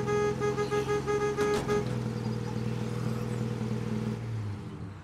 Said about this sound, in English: I love honking the horn at juggernauts as I go by